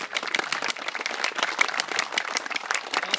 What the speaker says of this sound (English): A round of applause for our color guards.